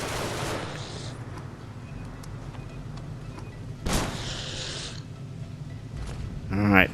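Mechanical clattering bursts from a harvester turret firing in Genesis Alpha One, with a louder burst near the middle and another at the end, set against a busy game soundscape and speech.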